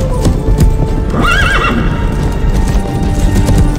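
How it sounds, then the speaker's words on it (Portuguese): A horse gallops in a historical Chinese drama scene, with loud, steady hoofbeats under the sound of a long neigh partway through and a dense background of music and action. No one speaks. "A gente sabe que ele sabe andar a cavalo lindamente."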